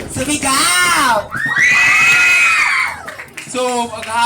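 A school crowd at San Andres National High School bursts into loud, sustained high-pitched screaming and cheering after a contest runner-up is announced, with voices rising together close by.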